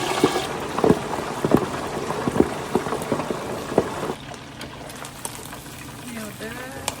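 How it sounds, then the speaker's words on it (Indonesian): Chicken pieces sizzle and crackle in hot oil, dense popping bursts for the first few seconds before settling into a quieter steady fry, with a person talking over it. "Ini kita mau goreng ayam, kita langsung biar nggak muncrat."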